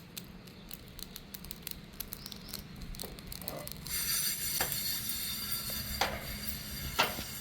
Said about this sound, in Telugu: ఆవాలు చిట్పట్లు ఆడుతున్నాయి